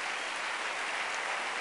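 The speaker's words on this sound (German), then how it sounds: "Ihr werdet noch viel zu klatschen haben, hoffe ich, heute Abend." Faint, steady applause from a studio audience at a live German-language TV show in Linz, Austria, a continuous soft patter of clapping with no talk.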